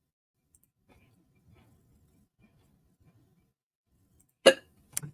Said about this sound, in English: Oh, goodness, I have the hiccups.